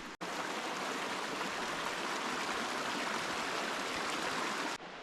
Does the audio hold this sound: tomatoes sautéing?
no